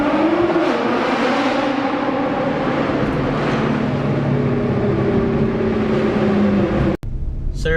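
A Nissan GT-R is driven with a steady, loud engine drone heard from close by that shifts slowly in pitch, then cuts off abruptly near the end.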